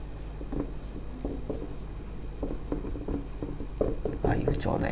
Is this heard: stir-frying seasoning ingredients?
no